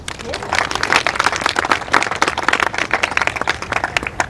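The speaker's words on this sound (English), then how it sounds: "One more applause for them." A crowd in a park applauds students at an Arbor Day event, producing brisk, dense outdoor clapping at close range with voices mixed in throughout.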